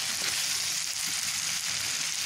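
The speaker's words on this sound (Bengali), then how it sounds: "মশলাটা কষানো হয়ে গিয়েছে, এবার আমি এর মধ্যে খেতে করা জলপাইগুলো দিয়ে দিচ্ছি।" Olives dropped into spice paste already frying in a pan give a dense, even hiss of sizzling, close and steady across the whole short stretch with no pauses and no voices.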